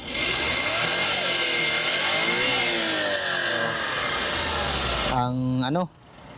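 A Suzuki K6A 660cc turbocharged engine in a 4WD mini van runs steadily at high revs with a buzzing hum, then briefly whines higher before cutting off abruptly near the end.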